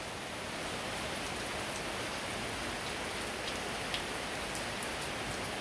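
Continuous morning rain pours down around a Thai home, a uniform broadband wash of falling water with faint occasional drip accents, no one speaking.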